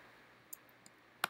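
Faint, sparse clicks on a MacBook while selecting photos, a few isolated taps ending in a quick sharper double click, close and quiet with no talking.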